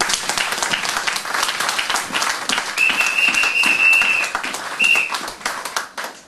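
A church congregation applauding the Lord, a loud sustained wash of many hands clapping with a whistle or cheer cutting through midway.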